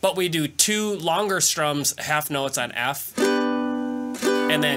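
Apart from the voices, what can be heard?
No everyday noises stand out.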